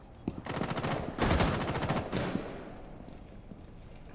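Rapid automatic gunfire in the video game Rainbow Six Siege: several fast bursts of shots, loud and close, the heaviest one in the middle, then fading into quieter background noise.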